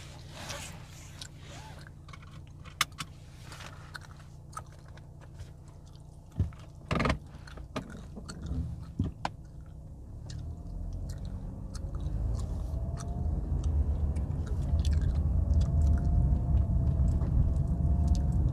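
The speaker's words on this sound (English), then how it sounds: "I'm gonna be chewing some gum." Gum being chewed inside a car during a drive, with soft wet clicks and smacks over a steady engine and road rumble that swells louder in the second half.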